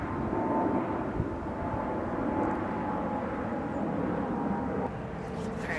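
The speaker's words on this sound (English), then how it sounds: "Sorry, there's an airplane." An airplane flies overhead outdoors, a steady low broadband rumble that holds through the whole stretch with no talking.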